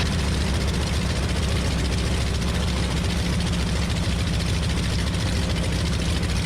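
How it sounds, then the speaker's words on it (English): A C-45 warbird's engines drone loudly and steadily during an engine run-up, at a constant pitch with a low rumbling throb and no pauses throughout. "I'm down to the part where we do the run-up."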